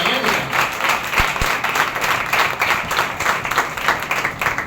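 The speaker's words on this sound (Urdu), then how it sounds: "تالیاں ٹھیک آج کھل کے بھی جائیں" A Sunday church congregation breaks into steady, close applause, dense clapping from many hands sustained throughout with a couple of sharp thumps standing out.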